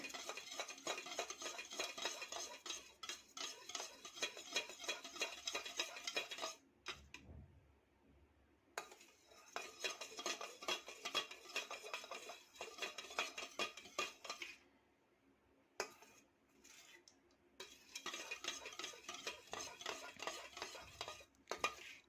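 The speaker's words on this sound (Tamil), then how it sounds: "நல்லா இந்த மாதிரி மிக்ஸ் பண்ணி விடுங்க." DIY dandruff shampoo base being mixed in a container, with steady light clinking and scraping strokes that go on for long stretches, broken by a few brief pauses; no talking.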